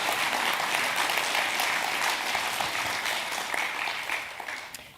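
Summit audience applauding in a hall, a dense burst of many hands clapping that holds steady, then thins and fades toward the end, with no talking over it.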